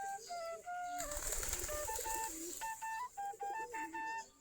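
Giribaz pigeons cooing and calling close by while feeding on mixed wheat and paddy, repeated warbling notes with a short burst of flapping or scuffling midway.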